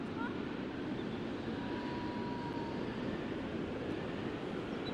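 A tram rolls along in the video game Ico, giving a steady, continuous low mechanical rumble with a faint hiss above it, unchanging throughout.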